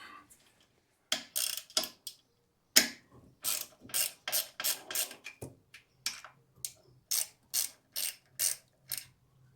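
A ratchet wrench clicks in quick rhythmic bursts while loosening the bolts of a carburettor conversion plate. The clicks are close and clear, with short pauses between strokes, in a quiet workshop.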